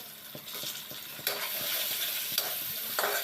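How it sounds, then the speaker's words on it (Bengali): Chopped onion, ginger and whole garlic fry together in hot oil with a continuous bright sizzle, while the spatula stirs with quick rhythmic scrapes that swell into louder bursts. "কুচি করা রাখা পেঁয়াজ সব একসঙ্গে ভেজে নিব।"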